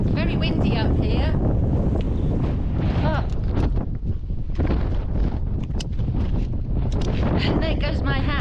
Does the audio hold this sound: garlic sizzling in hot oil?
no